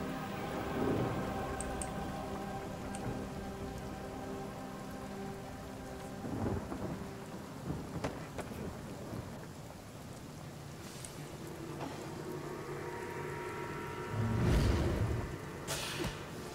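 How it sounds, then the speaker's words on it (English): Steady rain pours throughout with rumbles of thunder rolling in, including a louder crack near the end, in the video game Divinity: Original Sin; no voices. "Rain."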